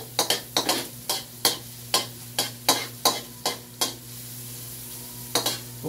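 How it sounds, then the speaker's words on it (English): Repeated sharp scraping and clattering strokes in a frying pan over a steady hiss as onions are stirred and sautéed, with no talking. "we're going to saute our onions"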